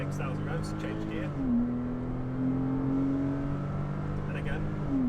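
A Porsche engine drones at high revs inside the cabin, its pitch dropping sharply at a gear change around 6,000 rpm, then climbing again, with a voice speaking over it.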